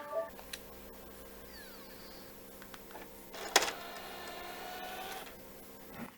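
A PlayStation 4 console ejects its disc: quiet mechanical whirring and a sharp click midway, followed by a few seconds of motorized grinding, faint and close with no talking.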